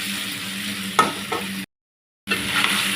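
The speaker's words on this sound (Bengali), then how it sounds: "খুব ভালো করে একটু তেলে ভেজে নিতে হবে মশলা মাখানো মাছটা।" Spice-coated shol fish frying in hot oil, a steady close sizzle with a few stirring clatters, broken by a brief silent gap before the sizzling resumes.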